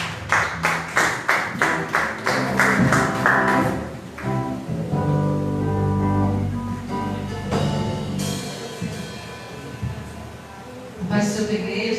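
A church congregation claps in praise in a steady rhythmic run of loud claps, then music takes over with voices singing and a few more claps near the end.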